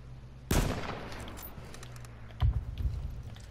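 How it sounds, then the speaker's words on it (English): Gunfire in the online survival shooter H1Z1 cracks out in two separate sharp bursts about two seconds apart, each loud and close with a short ringing tail, over a low steady game background. "No, I was shooting at someone."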